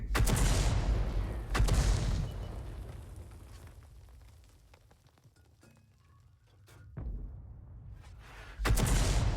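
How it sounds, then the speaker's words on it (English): Tank and artillery shells firing in a World of Tanks-style video game with a 105 leFH18B2 self-propelled howitzer: heavy booming blasts with long rumbling tails, two near the start, a quieter lull, then louder shots toward the end. "The guy's still there, but the shells keep missing him."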